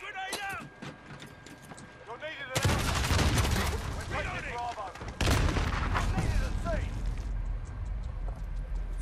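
Heavy gunfire in Call of Duty Modern Warfare, bursts of rapid automatic shots and sharp blasts arriving in loud waves, mixed with voices talking over the battle.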